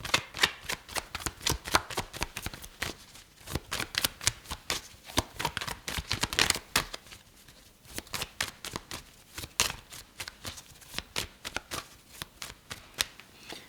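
Tarot cards are shuffled in quick, crisp riffling bursts, close and fairly quiet, the rapid flicking repeating in rhythmic rounds with brief pauses between.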